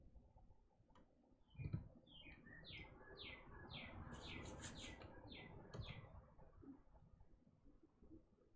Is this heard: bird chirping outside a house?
yes